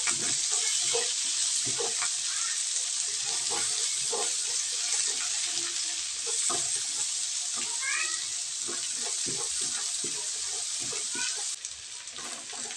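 Steady sizzle of onions sautéing in a pan after golden-brown garlic, a continuous hiss with scattered clinks and scraping of stirring, fairly quiet and unaccompanied by clear speech.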